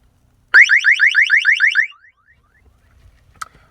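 An egg-shaped alarm beeper in a home sounds when power is switched to the generator. It gives a loud, close burst of rapid warbling electronic beeps for just over a second, then cuts off and leaves faint background noise with one short click.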